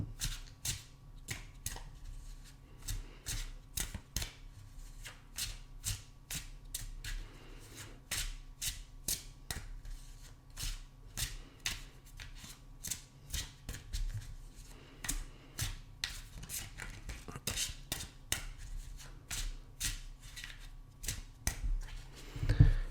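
Tarot cards shuffled by hand in a steady run of crisp riffling snaps for over twenty seconds, close and fairly quiet with a low hum underneath and no talking.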